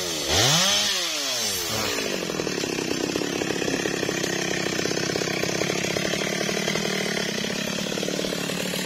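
A chainsaw revs up with a rising whine, then settles into a loud, steady buzzing drone as it bites into a tree trunk, close by and continuous with no voices.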